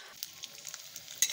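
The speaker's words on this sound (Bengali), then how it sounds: "দেখো এই যে পাঁপড় ভাজা করছি" Papad frying in hot oil, a soft, steady sizzle with small crackling pops, close and fairly quiet, with a sharper crackle near the end; no voices.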